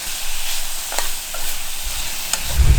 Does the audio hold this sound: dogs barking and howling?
no